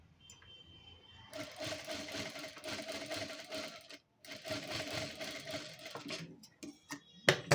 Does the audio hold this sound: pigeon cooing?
no